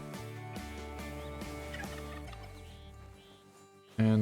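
A wild turkey gobbles outdoors during a hunt, its rolling, repeated calls moderately distant over a quiet background, closing with a sudden louder burst at the very end.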